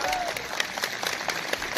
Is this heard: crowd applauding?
yes